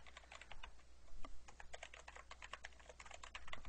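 Rapid, irregular clicking of typing on a new computer keyboard, close and fairly quiet, with bursts of keystrokes and brief pauses and no voices.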